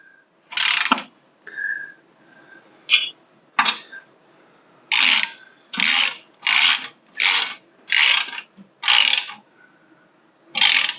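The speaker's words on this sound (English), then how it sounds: "then you can take your tool" A hand ratchet tool tightens backing nuts on a rucRak Grunt rack install, giving about a dozen close, loud bursts of clicking ratchet strokes separated by short pauses.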